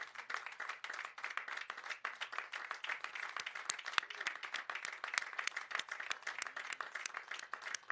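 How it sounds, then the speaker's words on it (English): Audience at a 2021 college commencement ceremony for science and health graduates applauds families and friends, a steady wash of many hands clapping with no voices over it. "give them a round of applause"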